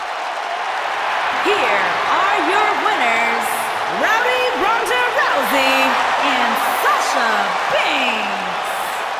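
A wrestling crowd in the WWE 2K19 video game cheers and applauds in a steady roar, while commentators talk over it throughout.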